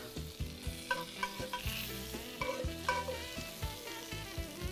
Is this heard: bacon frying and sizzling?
yes